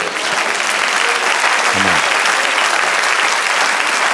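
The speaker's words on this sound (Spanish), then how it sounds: "Den un aplauso al Señor." Church congregation applauding during a sermon, dense steady clapping from many hands filling the room, loud and close, with a brief low voice surfacing partway through.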